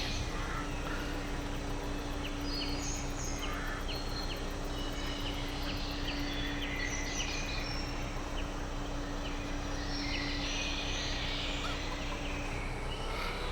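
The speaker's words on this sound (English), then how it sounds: "There are some hungry chickens." Hungry chickens on a farm in Farming Simulator 22 cluck and call repeatedly over a steady ambient hum, short bird-like sounds scattered throughout at moderate distance.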